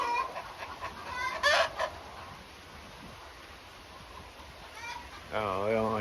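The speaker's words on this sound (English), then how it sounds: "There's a rooster." A rooster and chickens clucking outdoors on a rural property, distant fowl calls under light ambient noise, with a voice talking near the start and a louder crowing or clucking burst at the end.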